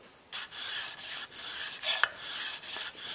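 A chisel is honed on a sharpening stone with a simple jig to put on a microbevel, giving six short, quiet scraping strokes with brief pauses between them.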